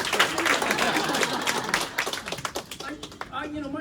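Applause from a small bookstore audience after an author's talk comes as a dense patter of clapping hands that thins into individual claps, with people talking underneath toward the end.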